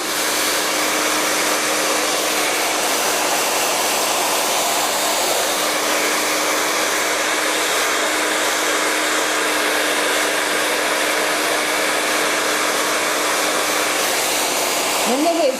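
A hair dryer blowing short hair dry, close and loud: a steady, unbroken whooshing motor roar holding for over fifteen seconds, changing briefly in pitch at the very end.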